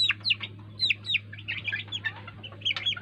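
Chickens cluck and chirp in short, repeated bursts, close by and fairly quiet over a constant low hum.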